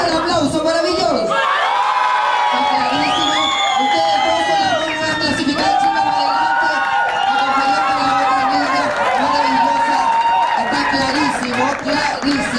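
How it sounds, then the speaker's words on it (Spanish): A live studio audience at a televised lookalike impersonation contest semifinal cheers and whoops loudly, with crowd shouts layered over a host talking throughout, a dense continuous roar of voices. "Ok, fuerte el aplauso para Beyoncé."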